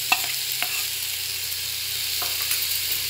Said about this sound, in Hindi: और इन मसालों को अब अच्छी तरह से हम चलाते हुए धीमी आंच से फ्राई करेंगे।